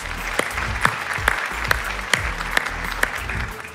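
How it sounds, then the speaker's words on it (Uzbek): A TV show's studio audience applauds steadily and fairly loudly, with sharp periodic thumps punctuating the clapping. "Olqishlab turamiz."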